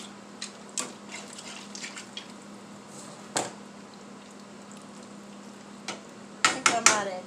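Cheesy beef macaroni is stirred in a skillet under a steady low sizzle, with scattered scraping and clacking of the spoon and a quick cluster of louder scrapes near the end.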